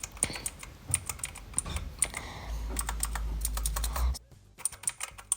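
Clicky keys on an Anko mini mechanical gaming keyboard clatter in quick, uneven bursts of sharp taps, close and fairly loud, with a short pause near the end before a few more keystrokes.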